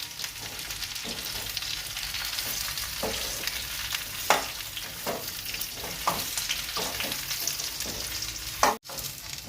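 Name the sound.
dates being stirred in hot ghee in a pan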